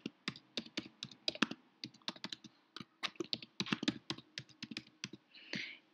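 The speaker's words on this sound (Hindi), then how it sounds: "फिर यहाँ आप अपनी ईमेल डालेंगे" Rapid clicking of a computer keyboard as an email address is typed in quick bursts of keystrokes with brief pauses, close and fairly quiet, ending in a softer rustle.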